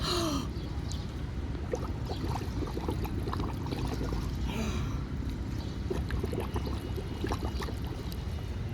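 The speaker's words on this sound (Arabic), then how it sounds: "اتفرج معايا كده، انا اخد نفس اهو بالمنظر ده" A swimmer takes quick breaths through the mouth at the water's surface, sharp gasping inhales and exhales repeating among splashing and flowing water, close and fairly loud.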